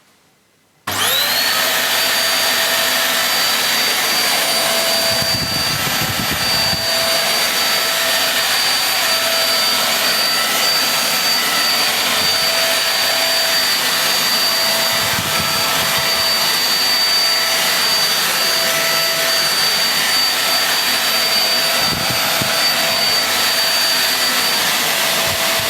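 A Shark Navigator upright vacuum cleaner runs on a hard floor with suction only and the brush roll not spinning, switching on after a second of quiet and then holding a loud, steady whine with a few low bumps from movement.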